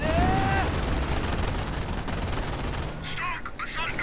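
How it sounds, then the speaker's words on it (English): Light machine gun and artillery fire rattle on without pause in a war video game, a dense, loud barrage that shifts toward crackling near the end. "One Ranger squad though has been penned down by all that light machine gun fire."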